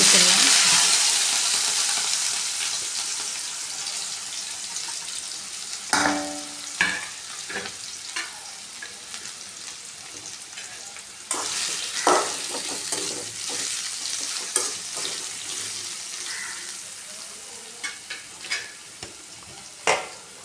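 Boiled raw plantain sizzles in a pan, a bright continuous frying hiss that fades a little over time, while a spoon stirs and scrapes in scattered close taps and clinks.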